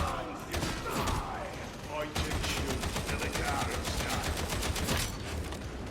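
Rapid automatic gunfire in Warhammer 40,000: Darktide from a hard-recoiling weapon, dense continuous bursts of shots close and loud, with a short pause before the firing resumes.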